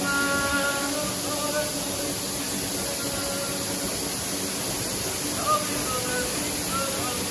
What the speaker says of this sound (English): we found a waterfall, and this is absolutely beautiful